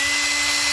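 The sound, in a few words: power drill drilling out handguard end hole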